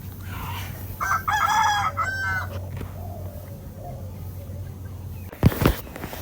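A rooster crows a long, loud call up close, followed by quieter clucking and a sharp burst of nearby noise near the end.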